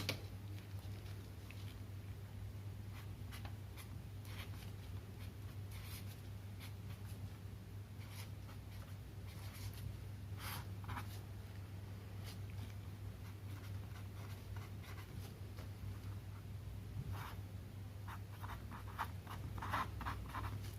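Marker or chalk writing out a chemical reaction product on a board, a steady run of soft scratchy strokes and taps over a constant low electrical hum, no talking.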